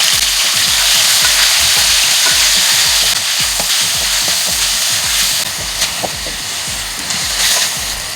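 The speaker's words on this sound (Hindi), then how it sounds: "ये मैं इसके अंदर डाल दूँगी और इसको मिक्स कर लेना है जब तक चिकन कलर नहीं चेंज कर लेती" Cubed chicken frying with ginger and garlic in a pan, stirred; a loud, steady sizzle runs throughout with repeated scraping strokes of the spoon, no talking.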